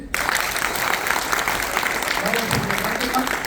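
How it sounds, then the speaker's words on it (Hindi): A comedy show audience breaks into sustained, even applause throughout, loud and close, with voices mixed in beneath the clapping. "तो थोड़ी ताली बजा दीजिए।"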